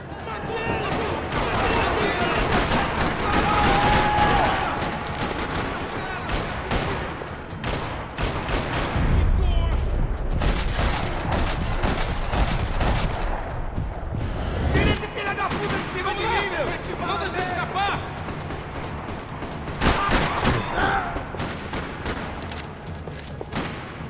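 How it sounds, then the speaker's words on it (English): Bursts of rapid gunfire crackle repeatedly in Max Payne 3, in a parking lot, dense volleys with brief lulls, mixed with raised voices and game effects. "Another parking lot rattling with gunfire."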